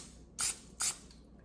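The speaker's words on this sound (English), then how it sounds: "So we're going to just spray it." Two short hissing bursts of cooking spray go into a crock pot, close and crisp, separated by a brief pause in an otherwise quiet kitchen.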